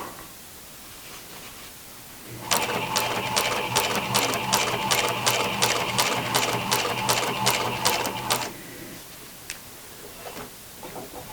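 A sewing machine stitches jeans denim in a fast, even run of needle ticks over a motor whir, starting abruptly and stopping after about six seconds, with quiet room noise before and after.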